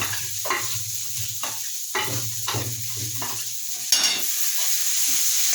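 Cashew and poppy seed paste stirred into frying spices for a Bengali aloo dum, with a steady sizzle under repeated spoon scrapes in a pan, fairly close and unbroken by talk.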